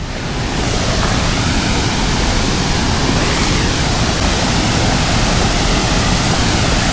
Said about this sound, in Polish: Wracam do wodospadu.